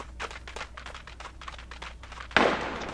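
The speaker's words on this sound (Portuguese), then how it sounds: "Ó, tem alguém atirando lá de longe." Gunfire cracks repeatedly in the distance in the video game Badlanders, a quick string of faint shots, followed by a single louder, sharper blast near the end.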